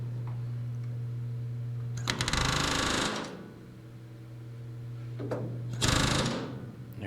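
Rivet gun setting a rivet on an RV-8 aileron push-pull tube, two loud bursts of rapid hammering about a second each, separated by a pause, over a steady background hum.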